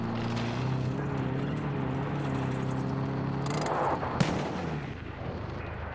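Gunfire in the video game Far Cry New Dawn, a few sharp cracks and thuds rising out of a steady engine-like drone, with one distinct loud shot near the end.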